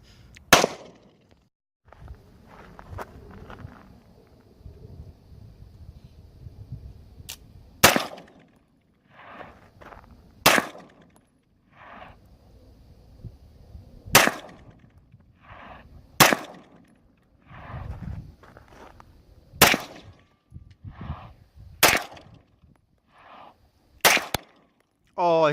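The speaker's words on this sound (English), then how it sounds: "gonna shoot this Beretta, and it's gonna be awesome" Sharp, loud gunshots from a Beretta pistol ring out one at a time, about nine spaced shots at irregular intervals across the span, with people talking quietly between them.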